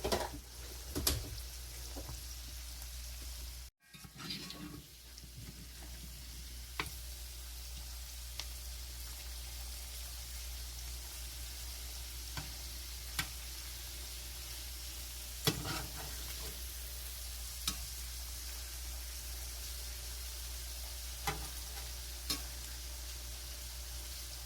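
Keto salmon nuggets frying in a pan and being flipped over, a steady low hiss of sizzling oil with a brief clatter partway in and occasional faint pops and ticks, close and even throughout.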